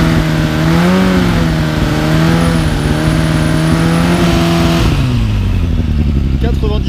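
A Suzuki Bandit motorcycle fitted with a Miv exhaust revs near and loud during a roadside sound-level test, holding a high, steady engine note for several seconds before dropping back toward idle.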